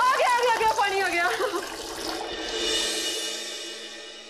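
Tap water runs steadily as a loud, hissing stream in a domestic scene from a TV comedy, starting right after a burst of speech and continuing alone to the end.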